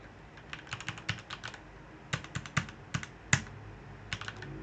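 Keys clack on a computer keyboard in quick, uneven bursts of typing with short pauses between, close and fairly quiet with no voices.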